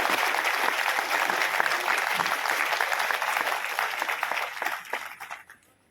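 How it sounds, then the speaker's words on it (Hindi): An audience at a religious discourse gathering applauds in welcome of a spiritual leader, a dense, steady wash of many hands clapping that holds strongly and then thins and fades out near the end. "एक बार खुले दिल से हाथ खोल करके बाबा नानक दास जी महाराज का स्वागत उनके श्री चरणों में तालियां"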